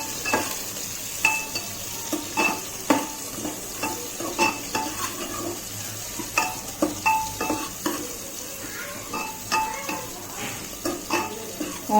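Onions and green chillies fry with whole spices in a pan for chicken haleem, with a continuous low sizzle and frequent light clinks and scrapes of a stirring spoon, close by.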